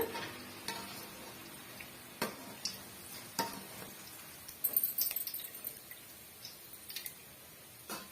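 Crispy cabbage snacks frying in oil, a faint sizzle with scattered taps and scrapes of a utensil, including a brief busier cluster of clinks near the middle; quiet overall, with no speech.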